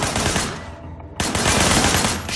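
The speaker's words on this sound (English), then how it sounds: "There was a shooter, firing shots from the passenger window." Rapid automatic gunfire rings out in the video game Sleeping Dogs, a loud, dense burst that breaks off briefly and then resumes at full intensity.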